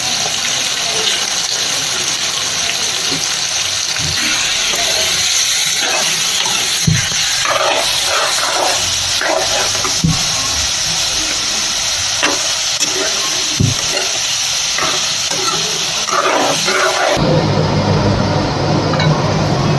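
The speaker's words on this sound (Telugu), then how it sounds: "ప్రాన్స్ని ఫస్ట్ ఆయిల్లో వేసి ఫ్రై చేసుకుంటున్నాను" Prawns with salt and lemon frying in oil in a pan, a loud continuous hiss with scattered pops and sputters, ending in a brief change to a duller tone.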